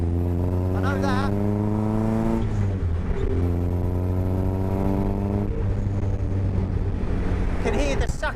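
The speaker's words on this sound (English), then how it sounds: "Can hear the sucking of the intakes with that sausage filter on the outside." Loud engine drone with strong steady harmonics from a car driven with a sausage-type intake air filter mounted outside, the intakes sucking air as revs rise and fall, continuous and close throughout.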